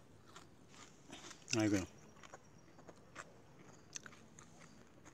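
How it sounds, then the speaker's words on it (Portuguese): Fried fish being bitten and chewed at a riverside, a single loud crunchy bite standing out near the mic with a few faint crackles around it, while someone speaks briefly. "Comendo um peixinho frito aí, ó."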